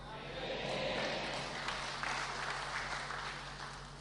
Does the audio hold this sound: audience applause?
yes